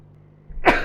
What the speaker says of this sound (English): Oh my word, that was a good sneeze.